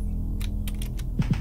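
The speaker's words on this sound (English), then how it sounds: "Sorry about the clacking of my keyboard" A computer keyboard clacks in a few quick, close keystrokes over a low background hum, with no talking.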